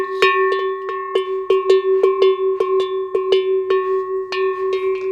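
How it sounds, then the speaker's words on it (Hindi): Brass cow neck bells clanking in a quick, uneven series of bright metallic strikes with ringing tones, close and clear with no voices. "ये वाले घंटे भी खत्म हो रहे हैं"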